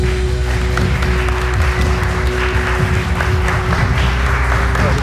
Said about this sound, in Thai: ขอเสียงปรบมือดังๆให้กับคุณระวีเหลียงตระกูลด้วยครับ